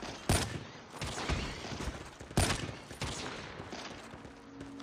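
Gunfire in the mobile shooter game Call of Duty Mobile, two sharp loud shots over a dense, ongoing rattle of distant automatic fire and in-game noise.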